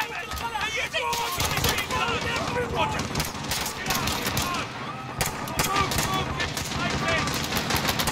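Rapid gunfire bursts from the Call of Duty: Modern Warfare campaign crackle densely and continuously alongside loud voices talking over the shooting.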